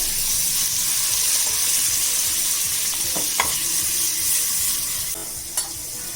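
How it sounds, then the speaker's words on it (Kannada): Eggs fry in a pan over a low flame for an Afghani egg curry, giving a steady, soft sizzle with a few faint clinks. There is no talking. "ಸ್ವಲ್ಪ ಒಂದು ಎರಡು ನಿಮಿಷ ಹೀಗೆ ಹುರ್ಕೋಬೇಕು"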